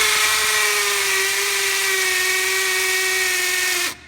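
DeWalt DCD996 brushless drill bores into concrete with a loud, steady high whine and grinding that holds for about four seconds before cutting off sharply near the end; no one speaks.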